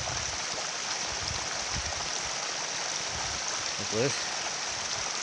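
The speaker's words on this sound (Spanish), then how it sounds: "Aquí sigue la nieve derritiendo." Small mountain waterfall fed by melting snow, a steady broadband rush of falling water filling the clip, with someone speaking briefly near the end.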